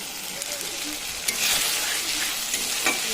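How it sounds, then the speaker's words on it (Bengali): Spice paste (masala) frying in a kadai until the oil separates, a steady close sizzle and crackle with occasional clinks and scrapes of stirring, fairly loud and continuous. "মশলাটা ভালো করে কষিয়ে দিয়েছি, তারপর কড়াইতে মশলাটা তেল ছাড়তে শুরু করে যায়"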